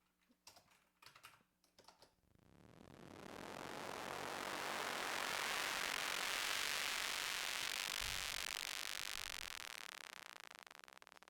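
Synthesized impulse-train notes with a filter center frequency sweeping upward from about 100 Hz to 3000 Hz; after a few keyboard clicks, a broad buzzy noise swells in, brightens steadily and holds for several seconds before tapering.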